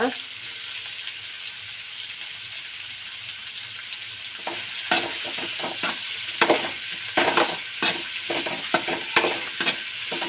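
Food frying in a pan in a home kitchen, a steady broadband sizzle running throughout with a burst of stirring scrapes and clatters in the second half, close and moderately loud.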